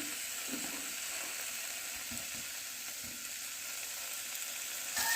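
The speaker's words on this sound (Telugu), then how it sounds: "పుదీనా అండి టమాటాలు మంచిగా ఫ్రై అయింది" Mint leaves and tomatoes frying in a pan for mint chutney, a steady soft sizzle running throughout with faint stirring scrapes, close and even, no talking.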